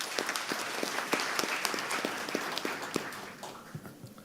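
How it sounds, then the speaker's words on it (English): Round of applause from an audience in a conference hall: a faint scatter of individual claps that thins out toward the end, with no talking. "may I request to have a one round of applause for all of you in the hall"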